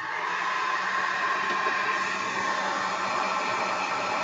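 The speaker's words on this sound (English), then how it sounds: "So I've got the hairdryer here set on hot, and we're going to turn it on" A steady, close whooshing blower hum with airy hiss, constant and unbroken throughout, like a hair dryer running on high.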